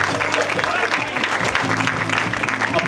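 Audience applause from a live talk-event crowd, steady dense clapping throughout at a loud, even level with some cheering voices mixed in.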